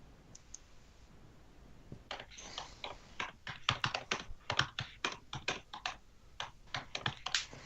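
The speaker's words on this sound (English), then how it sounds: "Typing." Computer keyboard typing sounds close and clear, starting with a few scattered clicks, then becoming a quick irregular run of keystrokes over quiet background hiss.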